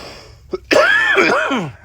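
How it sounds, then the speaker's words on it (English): A short throaty cough followed by a rasping, drawn-out clearing of the throat, close and fairly loud. "Sorry for the coughing. Again, I have a tickle."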